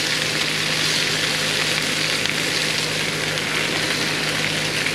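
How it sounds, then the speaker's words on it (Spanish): Chilies frying in a pan for pozole verde, a loud continuous close sizzle of hot oil with no pauses. "eso es lo que queremos hacer con los chilitos, que se guisen, que agarren ese doradito"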